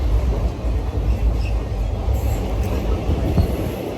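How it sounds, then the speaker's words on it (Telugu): A passenger train that has just left Jabalpur on the Hyderabad–Prayagraj route runs steadily, a loud continuous rumble of wheels on rail with faint squeals, heard from inside the carriage with no talking. "ట్రైన్ జబల్పూర్ నుండి స్టార్ట్ అయిపోయింది కదా"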